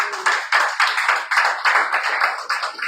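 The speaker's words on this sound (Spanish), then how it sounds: "Le da un aplauso al Señor." A church congregation claps in a steady rhythmic beat, with about two claps each second. The sound is bright, close and full, and it carries on without a break and without any talk.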